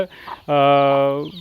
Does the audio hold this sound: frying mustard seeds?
no